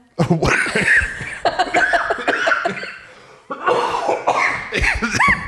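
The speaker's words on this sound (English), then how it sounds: "I'm coughing so much" A person coughs repeatedly in harsh bursts, mixed with breathy chuckles, close to the microphone with a short pause midway.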